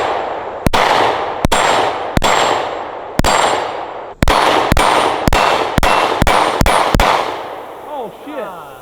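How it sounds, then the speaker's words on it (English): Loud gunshots fired at a metal T-post target, about a dozen sharp cracks at irregular intervals, some in quick succession, each with a ringing metallic tail. "I'm gonna shoot that T-post."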